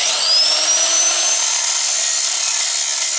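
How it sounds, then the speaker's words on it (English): Steady, loud whine of a grinder working chamfers along the edges of a cast machine table from a Yates American J180 being restored, a continuous high tone with a lower hum throughout, no voices. "I'll finish grinding once I get that cleaned off"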